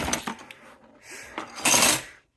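Metal spoons, spatulas and cooking utensils clatter and jingle in a few short bursts as they are shuffled around in a jumbled camp kitchen bin, close and fairly loud, with quiet gaps between the bursts.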